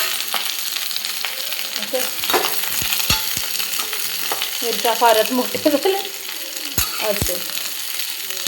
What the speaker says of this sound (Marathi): तर हे व्यवस्थित आधी भाजून घ्यायचा कांदा